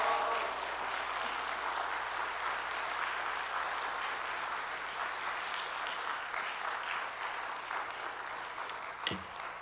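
Sustained applause from a church congregation at a Saturday evening New Year revival service, welcoming the bishop to the pulpit; steady, dense clapping fills the room throughout.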